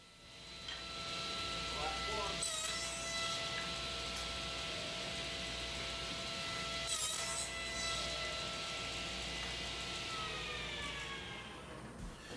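Continuous rough sawing of a rabbet into wooden boards for beehive frames, with a steady grinding hum, a couple of sharp scrapes standing out, close and fairly loud throughout.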